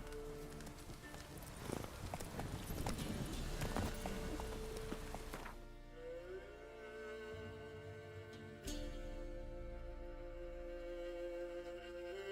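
Roach the horse from a video game gallops with steady hooved clip-clop beats over a musical score, the hoofbeats loudest early and thinning as the music swells.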